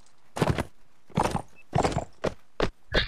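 Horse hooves in Mount & Blade: Napoleonic Wars, a series of about six fairly close, heavy thudding beats in an uneven rhythm, with short gaps between them.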